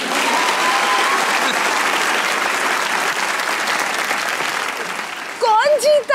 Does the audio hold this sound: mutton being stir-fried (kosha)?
no